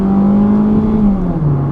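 A car engine at full throttle, holding a loud, close, steady roar whose pitch sags slightly at the end.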